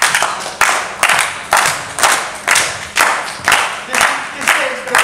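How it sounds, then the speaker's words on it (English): A group claps in a steady rhythm along to Irish step music, with loud, close, evenly spaced beats throughout. "Music starts and we clap."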